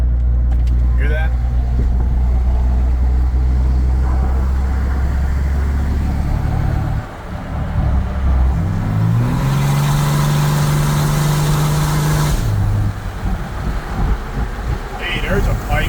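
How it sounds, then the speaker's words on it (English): A black Ram Mega Cab pickup truck idles loudly close by, its exhaust giving a deep hum that rises into a brief rev partway through before settling, with people talking nearby. "But the exhaust is so nice. You kind of hear that?"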